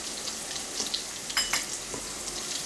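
Green chilli and garlic sauté in a pan for a North Karnataka fresh chilli paste, giving a soft, steady sizzle with a few brief crackling bursts and stirring scrapes, with no voices.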